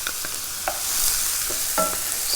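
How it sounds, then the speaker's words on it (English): Chilli being stirred into sloppy joe mix frying in a pan, a steady sizzle broken by a few soft scraping stirs close by, with no talking. "Stir that through."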